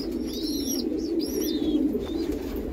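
Andhra breed pigeons coo and call in a few rising and falling notes at moderate distance, repeated over a steady low hum of background noise.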